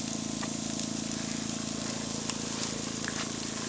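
Onions and peppers frying in olive oil at a forest campsite, a soft continuous sizzle and hiss with a faint low hum beneath and occasional tiny pops.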